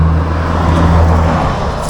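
A car on a road in Yemişli village gives a steady, loud, low engine rumble that fills the whole stretch without pause.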